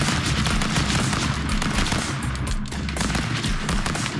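Dense, continuous gunfire from the stick-figure brawler Stick Fight rattles on loudly for several seconds, with rapid overlapping shots and no pauses.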